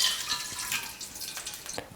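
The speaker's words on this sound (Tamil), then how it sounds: "நான் வந்து 1/2 கப் அளவுக்கு தண்ணி சேர்த்துக்க போகிறேன்." Water poured into a pan of hot frying oil with ginger, setting off a brief burst of sizzling and spattering with faint stirring, heard close and alone.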